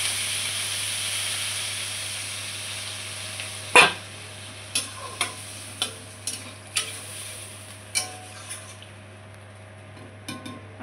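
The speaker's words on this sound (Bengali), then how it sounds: "এখন একটু ভাজা ভাজা হোক, তারপরে জল দেবো।" Food frying in a pan before water goes in, a steady soft sizzle under a string of sharp stirring scrapes and clinks of a utensil against the metal, close and alone with no talk.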